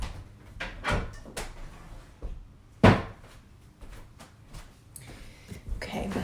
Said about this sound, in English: I had to shut my office door